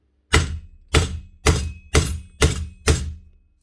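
Six loud metallic hammer blows knock steel inserts out of an aluminium Paslode IM350/90CT nail gun part, at a steady pace about half a second apart, each a sharp clang with a short ringing decay.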